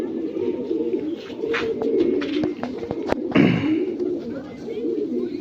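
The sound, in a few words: Lokhande pigeons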